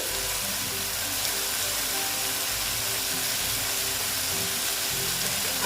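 Cumin and coriander powder sizzle in hot oil in a snakehead fish curry cooked with onion greens, a constant, close frying hiss running without a break.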